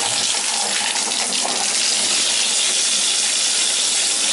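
Water rushes from a bathtub tap just after the water supply to a home with a well jet pump is turned back on, a loud, steady hissing flow close by that continues unbroken.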